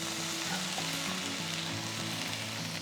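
Two medium tomatoes frying in hot oil in a pan give a loud, continuous sizzle with steady crackle throughout and no voices.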